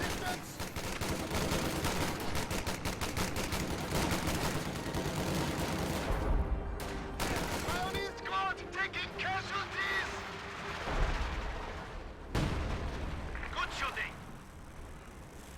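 Gunfire and artillery in a World War II strategy video game keep up dense rattling bursts and heavy booms, with several louder blasts, while someone talks over the battle.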